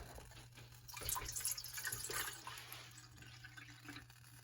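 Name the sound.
water poured into metal bowl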